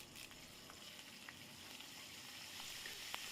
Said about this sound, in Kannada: ಈ ಕರಿಬೇವಿನ ಸೊಪ್ಪು ಹಾಕಿದ ನಂತರ ಅದನ್ನು ಕೂಡ ಚೆನ್ನಾಗಿ ಎಣ್ಣೆಯಲ್ಲಿ ಬಾಡಿಸ್ತಾ ಇದ್ದೀನಿ